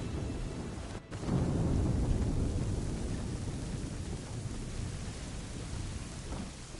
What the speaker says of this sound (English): I'd say it's high time we find some cover from this storm, Captain.